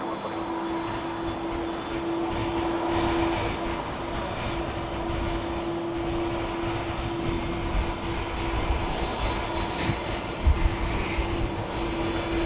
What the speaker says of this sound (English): Malaysia Airlines joining us now here in their One World livery